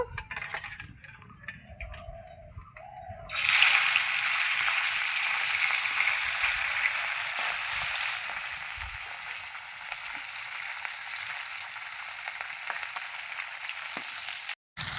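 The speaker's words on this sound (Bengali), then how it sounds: "মাছগুলো কিন্তু কড়া করে ভাজতে হবে" Fish dropped into hot oil bursts into loud, steady sizzling that starts abruptly and continues without pause, with faint crackles throughout.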